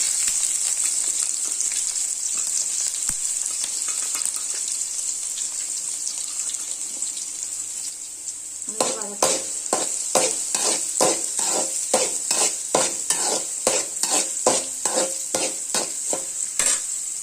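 Chopped onions hit hot oil with curry leaves with a steady hiss, then a utensil stirs them in rapid scraping strokes while the sizzle continues underneath.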